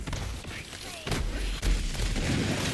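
Grenade blasts and combat noise in Borderlands 3 pound in quick succession, several loud booming thumps and bursts over a continuous noisy battle background, with no talk heard.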